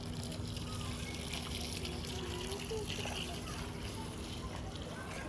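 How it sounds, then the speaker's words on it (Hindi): Water steadily pouring and gushing into plant pots while plants are watered outdoors, a continuous moderate splashing flow throughout. "आप सब पेड़ों में पानी दे रहे हैं"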